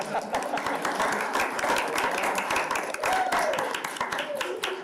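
Applause at a school board meeting, as a room of people claps steadily for about five seconds at moderate loudness, with a voice faintly speaking under it.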